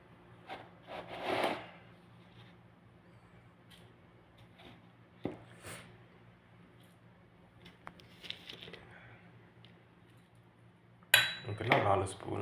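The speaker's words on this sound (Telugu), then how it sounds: "ఇలా 4 స్పూన్లు పౌడర్ తీసుకున్నాను" A spoon scoops powdered pistachio, almond and walnut, clinking and tapping against a container in scattered bursts between quiet gaps, with a voice talking faintly.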